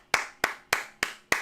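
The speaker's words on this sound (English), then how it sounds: "claps for Jockstar, even though he's not here." Five evenly spaced sharp hand claps, about one every third of a second, close and crisp with no talk, a small group clapping in unison on a news talk show.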